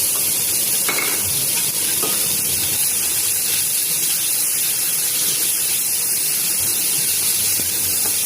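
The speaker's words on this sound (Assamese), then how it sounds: "এতিয়া মাছ ভজা তেলখিনিতে এইখিনি দি দিলোঁ, পেষ্ট কৰি থোৱা মছলাখিনি।" A loud, constant hiss of ground spice paste sizzling in hot oil left from frying fish fills the clip, close up, with a couple of faint scraping knocks.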